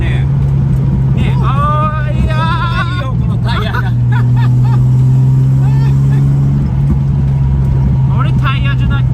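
Lowered Nissan Fairlady Z S30 driving, its engine a steady loud drone with a shift in pitch partway, while people talk inside the car throughout.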